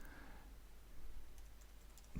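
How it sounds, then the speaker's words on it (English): A computer keyboard is typed on in a short, faint series of scattered clicks, close and quiet, with a low hum behind and no speech. "So I'm going to type"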